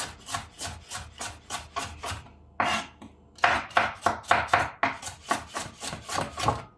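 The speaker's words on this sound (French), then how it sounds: "on va émincer finement notre poivron rouge" A knife finely slices a red bell pepper on a wooden board for a Thai-style tofu burger, a quick steady run of close, crisp cuts with a short pause midway, no speech.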